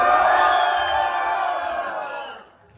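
Crowd at a freestyle rap battle cheers and shouts in one loud sustained swell that fades out near the end.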